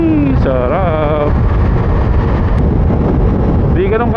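Steady wind buffeting the microphone throughout while riding a Ducati Multistrada V4S motorcycle, with a rough low rumble, while a person speaks over it.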